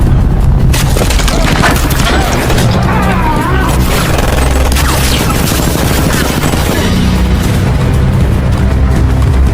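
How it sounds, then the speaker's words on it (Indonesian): Intense gunfire in a shootout scene from the film Homefront rings out in rapid, overlapping bursts with booms and crashing impacts, loud and continuous throughout, with voices faintly mixed in. "terjadi baku tembak yang begitu sengit"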